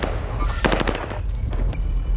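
Video game gunfire, rapid bursts of loud automatic shots in clusters over a dense game-sound background.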